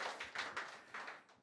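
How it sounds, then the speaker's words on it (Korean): Brief burst of clapping from a small church youth-service congregation welcoming a new worship-team vocalist, a few seconds of scattered hand claps rising and falling, fairly close with no voices over it. "박수로 환영해 주세요"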